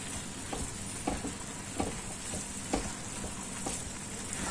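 Grated carrot halwa with khoya roasting in a pan, a steady soft sizzle with periodic scraping strokes of a spoon stirring through it, close and continuous with no speech.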